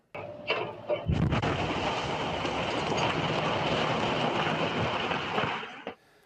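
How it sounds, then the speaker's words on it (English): A loud blast, caught on a doorbell camera, erupts after a faint thump, followed by a long roaring rumble and debris noise that holds for several seconds before fading out. "that frightening explosion caught on camera"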